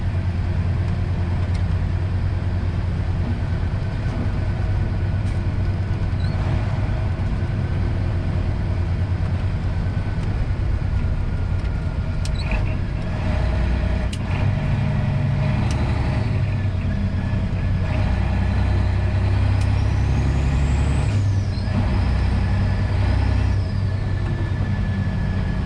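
A truck cruises down a highway with a steady, loud engine drone and road rumble, the pitch shifting partway through as it drops to a lower gear, with no talk.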